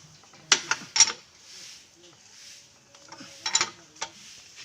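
A nut is tightened onto a tractor wheel rim: two close clusters of sharp ratcheting, metallic clicks separated by a quieter pause, with faint background hum.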